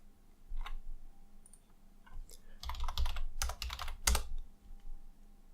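Typing on a computer keyboard: bursts of close, clattering keystrokes in short runs, with quieter isolated clicks at first and a dense flurry toward the end.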